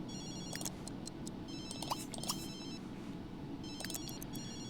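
A telephone rings in The Sims 3 video game: repeated electronic ring bursts in short clusters, fairly faint over a steady background hum of game sound.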